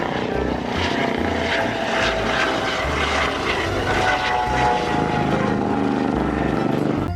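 A toy helicopter gives a loud continuous whirring and rotor-like drone that stays steady throughout, with busy background noise from a toy truck play setting.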